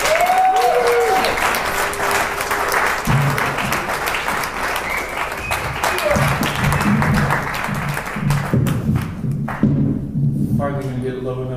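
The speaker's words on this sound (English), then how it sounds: "Keep your applause going for your next comedian coming to the stage" An audience applauds for a comedian arriving on stage at a comedy show, with sustained dense clapping and some cheering over about eleven seconds, thinning and breaking up near the end.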